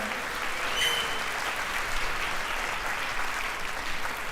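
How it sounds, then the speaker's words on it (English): Sustained, even applause from an audience at a productivity talk fills the room without pause, moderately loud and dense. "Give her a big round of applause."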